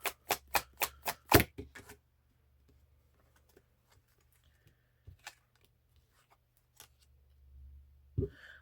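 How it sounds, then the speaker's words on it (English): Tarot cards are shuffled in a quick burst of sharp riffling snaps, then a few soft scattered taps and a final card slap in a quiet room. "One more shuffle through."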